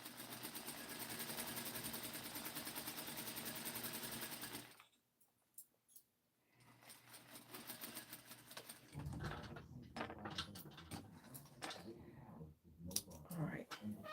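A sewing machine stitches fabric for a rainbow jumpsuit, its fast, even motor whir running steadily for several seconds before stopping. Brief clicks follow, then a quieter stretch of handling and talking.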